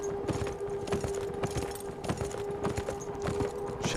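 Horse hooves gallop in the video game Beyond: Two Souls, a fast steady clip-clop rhythm at close range over a continuous hum of game ambience.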